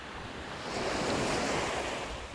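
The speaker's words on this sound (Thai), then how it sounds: "ลมค่อนข้างจะแรงอยู่พออยู่พอสมควรครับ แต่ก็ยังพอตกได้อยู่ครับ" Strong wind buffets the microphone on the seashore during squid fishing from the beach in Pattaya, with a steady roar of surf and gusts swelling midway, no voices.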